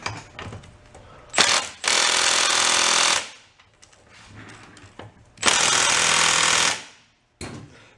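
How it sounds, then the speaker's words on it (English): An impact wrench hammers at a nut on a 40-year-old fold-up 49cc suitcase scooter, firing two loud sustained rattling bursts of about a second and a half each, separated by quieter handling clatter, with a brief final jab. "it looks like we just take that nut off and see what happens"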